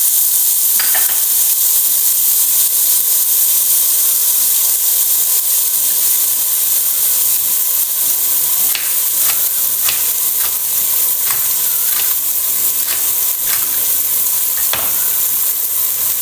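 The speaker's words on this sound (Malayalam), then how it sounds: "ബട്ടറൊക്കെ നല്ലോണം സോട്ട് ചെയ്തെടുക്കാം. പിന്നെ കോൺ ഇട്ട് കൊടുക്കാം." Sweet corn sautéing in butter in a pan for a fish soup gives a steady, close sizzle and hiss, with occasional light scraping clicks from stirring and no voices.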